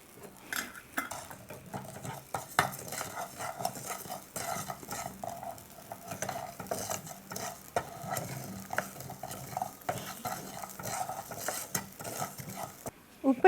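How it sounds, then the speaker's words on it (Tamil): Rock salt, about 25 grams, dry-roasted in a pan while making idli podi, with a steady scraping and stirring clatter of a spoon against metal across the whole stretch, moderately close and without talk. "உப்பு இப்போ வறுபட்டுருச்சு"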